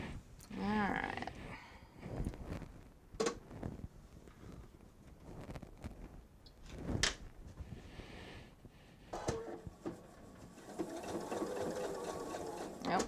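A sewing machine stitches in short, uneven bursts separated by pauses and clicks, with a longer stretch of running near the end; close but quiet.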